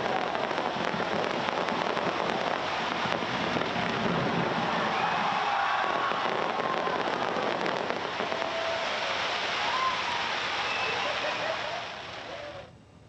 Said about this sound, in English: Some 328-meter tall, over 500 kilogram fireworks on display on your screens.